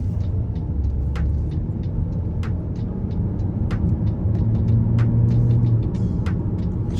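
Car engine running during a test drive, a steady low rumble of motor and road noise heard from inside the cabin, with faint intermittent clicks and taps over it.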